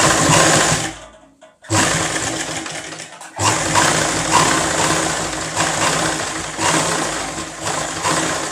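A sewing machine stitches a hand design on a cut garment piece, running loud and steady with two short pauses where the motor stops before the stitching resumes.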